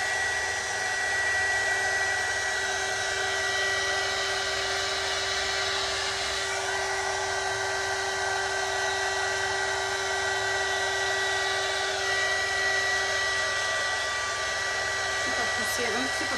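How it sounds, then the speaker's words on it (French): A heat gun blows hot air over resin for a wave effect on a lazy Susan, a loud, constant airy roar with a steady motor whine that runs unbroken throughout. "Et repasser un petit peu de heat gun."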